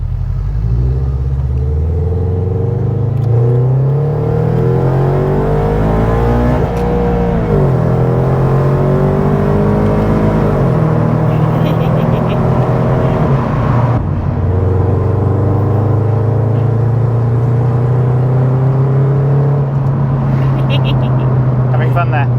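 Toyota GT86 fitted with a Milltek exhaust gives a steady, deep low rumble heard from the outside, with engine pitch rising and dipping through a couple of revs and speech-like sounds layered over it.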